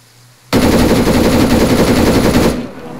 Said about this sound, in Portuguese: DMR, tá atirando em mim, certeza.